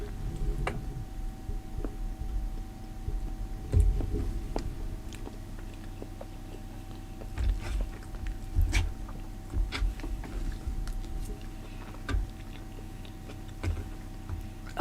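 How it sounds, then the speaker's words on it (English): Close, soft chewing of a Beyond Meat burger, with faint wet clicks and bites scattered over a low steady room hum, no talking. "sorry if you can hear me chewing on my burger"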